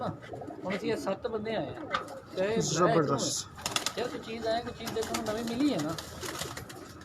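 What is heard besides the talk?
pigeons cooing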